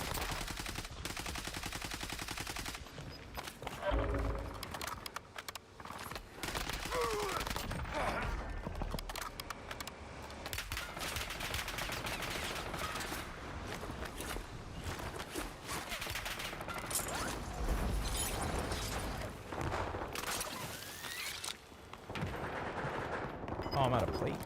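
Gunfire from the video game Warzone, with rapid shots and bursts of firing running through the whole stretch, loud and dense, mixed with game effects and a player talking at times.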